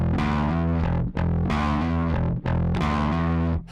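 Bass played through an Ampeg Scrambler overdrive pedal with the drive turned fully up: three sustained, heavily distorted notes, each fuzzy and gritty, separated by brief gaps, loud and close with no talk.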